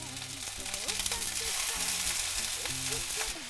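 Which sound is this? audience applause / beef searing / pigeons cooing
beef searing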